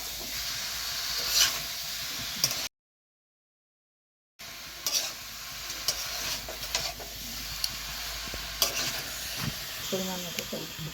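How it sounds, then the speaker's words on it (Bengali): Masala being stirred in a pan for a vegetarian doi kathal (jackfruit in yogurt) curry, giving a steady close sizzle and hiss with scraping stir strokes, broken by a brief gap of silence. "মশলাটা এখন ভালো করে নাড়িয়ে চাড়িয়ে দেবো।"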